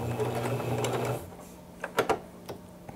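A sewing machine stitching a cowboy-style vest runs in a close, steady whir for about a second and then stops, followed by a few soft clicks and handling taps.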